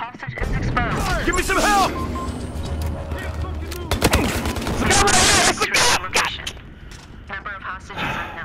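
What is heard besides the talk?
gunfire in the video game Battlefield Hardline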